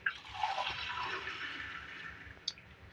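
Water poured from a glass into a pot of cooking beef for pulao gives a soft, steady rushing splash for about two seconds, faint and close, then a small drip.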